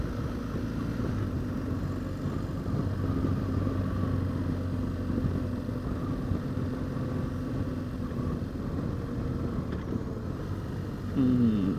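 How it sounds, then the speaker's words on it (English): A 1000cc Honda Africa Twin DCT motorcycle riding ahead on the road, its engine blending into a steady drone of wind and bike noise at a moderate distance. "That's my dad in front of me, riding a Honda Africa Twin, the 1000cc on the DCT gearbox."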